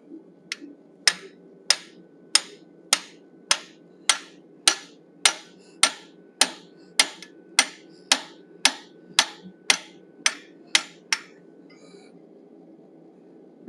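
Hammer blows ring out on a fuller set against hot steel while a wolf head is forged, about eighteen sharp, evenly spaced strikes roughly every two thirds of a second, close and clear, then the rhythm stops and a quiet pause follows.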